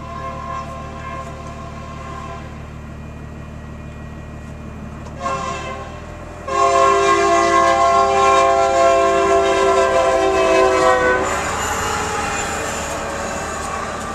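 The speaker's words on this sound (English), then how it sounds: "Stopping for a train." A train rolls past a railroad crossing while a truck hauling a wide load waits, its horn sounding in long loud sustained blasts over the steady rumble and clatter of the cars, the horn swelling louder midway and holding.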